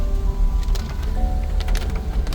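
Rain falling at a hillside campsite, a steady close patter on surfaces with scattered louder drips and taps, continuous and fairly loud with no voices.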